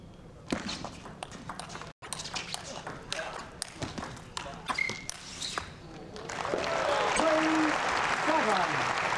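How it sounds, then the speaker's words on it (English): Table tennis crowd at the 2012 Liebherr Men's World Cup applauding Michael Maze, with scattered claps and knocks giving way to a swelling round of applause near the end; a commentator talks over it. "The crowd doing their best to get behind Michael Mays, trying to lift his spirit"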